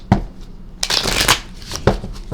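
Tarot cards are shuffled in a few quick riffling bursts, close and crisp, with brief taps between them and no talking.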